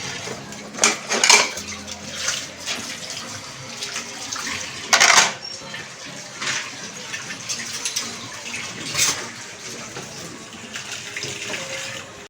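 Dishes and cutlery are taken out in a home kitchen, with intermittent clinks and clatters of metal and crockery, a few sharper knocks and faint water noise in between.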